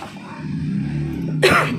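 A single sharp cough bursts out near the end after a low, steady hum.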